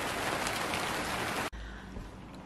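Rain falls outside as a dense, steady hiss that stops abruptly partway through, leaving a quieter, duller background of patter and low rumble.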